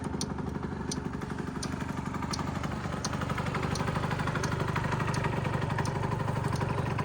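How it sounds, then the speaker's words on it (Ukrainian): A Yamaha Jog SA16 scooter engine idles steadily at close range, a continuous mechanical putter with light rattling and no voices. "Гарно працює, як на мене, ніяких питань по роботі двигунчика немає"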